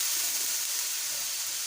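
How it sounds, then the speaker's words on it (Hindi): A paste of garlic, ginger and green chili sizzles with onions in a pan, a steady close hiss with no talking. "इसमें हम लहसुन, अदरक और हरी मिर्च का पेस्ट शामिल करेंगे। 1 से 2 मिनट हम इन्हें अच्छी तरह फ्राई कर लेंगे।"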